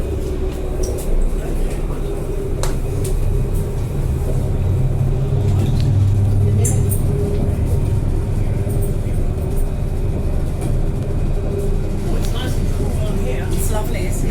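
An Adelaide tram in motion, a loud continuous low rumble and hum from on board, steady throughout with faint squeals, while voices talk over it.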